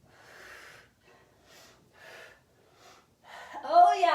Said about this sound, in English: Breathe it in. Breathe it out.